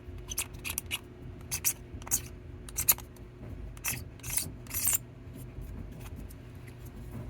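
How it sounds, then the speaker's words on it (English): A steel scriber scratching along a mold line on a cast terrain ruin piece, coming as a series of short, sharp rasping strokes up close, with squealing bursts and pauses in a quiet room. "go after it with the scriber."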